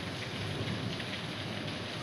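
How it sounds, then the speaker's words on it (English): Heavy rain pours down during an early-morning thunderstorm in Hamburg, a dense, steady hiss of falling water that fills the scene with a soft low rumble beneath and no voices. "at least you heard the rain and seen a few like lightning strikes"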